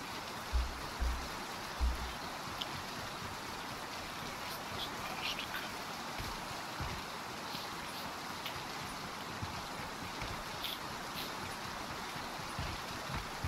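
Swimming through water in a PUBG-style battle royale game: a steady wash of churning, splashing water runs throughout, with a few low thumps near the start and faint sharper accents scattered over the top.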